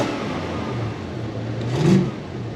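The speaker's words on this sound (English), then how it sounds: "I'll give it a bit of a rev" A Toyota Hilux with a 3UZ V8 swapped in and a fuel pump fault idles with a steady whirring drone, then swells in one brief rev that falls back to idle, recorded close by.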